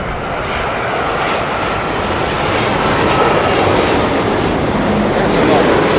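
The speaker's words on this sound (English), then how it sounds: "And that, my friends, is a Dreamliner from Delhi" An Air India Boeing 787-8 Dreamliner airliner coming in to land at London Heathrow after a flight from Delhi, its broad jet roar steady and close, swelling slightly toward the end with no pause.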